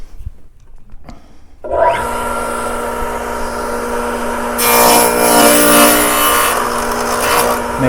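Radial arm saw cutting a half-lap dado in a wooden board, the motor spinning up to a loud steady whine, then a harsher, brighter ripping roar as the blade bites through the wood, close and continuous.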